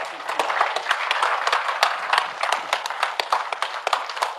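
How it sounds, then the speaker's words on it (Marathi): An audience claps after a Marathi meditation session, dense continuous applause from a small crowd with sharp individual claps throughout and no pauses. "तुम्हाला आवडलं असलं तर टाळ्या वाजवा."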